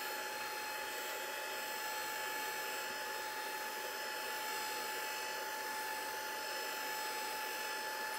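A heat tool blows steadily over ink and oxide paints on a craft background, giving a continuous airy whir with a fixed high whine that holds evenly throughout.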